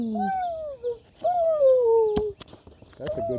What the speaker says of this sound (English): pigeon sound.